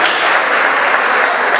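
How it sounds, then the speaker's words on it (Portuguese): Crowd at an amateur boxing event applauding two female fighters after their bout, a dense, steady wash of clapping from many hands that stays loud and even throughout, with no voices standing out. "Vamos dar uma salva de palmas para essas duas guerreiras"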